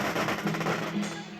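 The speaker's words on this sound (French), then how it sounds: "on fait éclater des chapelets de pétards" Strings of firecrackers going off at a Mazu festival procession, a loud continuous crackling rattle of rapid bangs.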